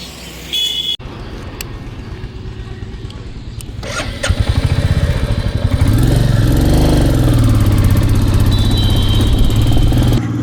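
A motorcycle starts up before a ride on a weekend bike trip, with a brief cranking burst followed by the engine catching and settling into a loud, close, steady idle with rising revs.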